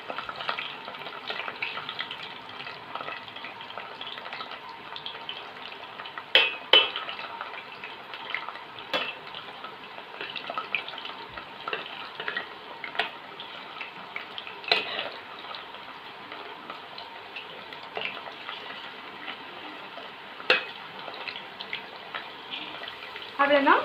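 Potato chips frying in hot bubbling oil, a continuous close hiss with scattered crackles and pops running steadily throughout, with a voice faintly present at times.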